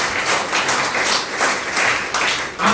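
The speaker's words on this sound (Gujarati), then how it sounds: "તમારી માટે તાળી થઈ જાય" A seated crowd at an outdoor group meeting on a hot day applauds steadily throughout, dense even clapping with no pause, fairly loud and close.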